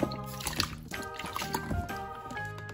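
Water trickles and drips as a Baby Born Soft Touch baby doll is lowered feet first into a small bath, with light splashes and dribbling close by and no talking.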